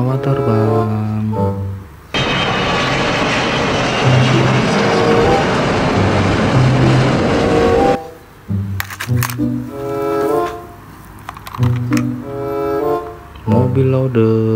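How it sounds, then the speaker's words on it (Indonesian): A loud, steady roar of an airplane engine fills about six seconds, framed before and after by tuneful voices and music. "Pesawat terbang."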